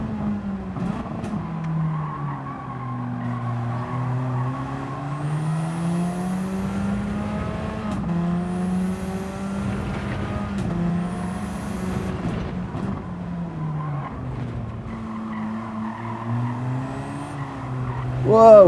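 A race car in Gran Turismo 7 spins off onto the grass, its engine note rising and falling continuously with faint high tire squeals above it, loud and steady throughout.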